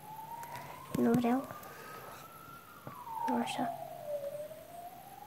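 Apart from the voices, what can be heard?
police siren in Minecraft video game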